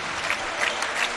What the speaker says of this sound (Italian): Tra gli applausi per Stagini